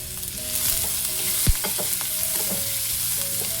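Chopped onion and curry leaves fry in a pan over a medium flame, a steady close sizzle with a few scraping stirs and one sharp clank partway through; no voices.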